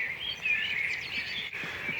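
Birds sing in a natural soundscape: continuous high, wavering chirps and trills, several overlapping calls with no pause, moderately near.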